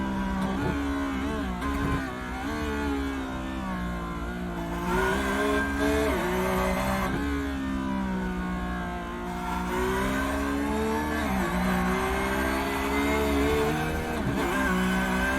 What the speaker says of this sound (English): A lot of noise out of these cars while you're on board.